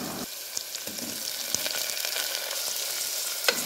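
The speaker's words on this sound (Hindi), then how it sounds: "अभी मैं उसमें ऑनियन, टमाटर और ग्रीन चिली डाल के थोड़ा सा फ्राई करूँगी।" Onion, tomato and green chili fry in an Indian tadka with mustard seeds for a Mangalore-style mixed vegetable dal, giving a steady close sizzle with a few sharp stirring clicks and no talk.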